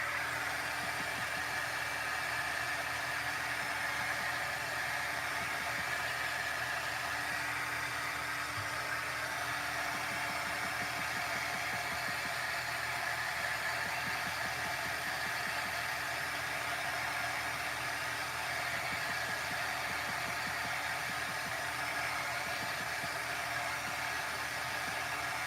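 A dryer blowing over a wet painted watercolor panel done with aqua pigments, a steady, even whooshing hum held the whole time with no breaks, close and without talk.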